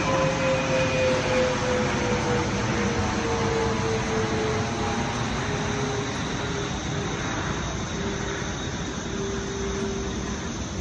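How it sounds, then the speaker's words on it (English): Steady engine drone of an airplane passing overhead, loud and continuous, over a dense bed of crickets chirping on Theodore Roosevelt Island, Washington, D.C. "Beautiful airplane."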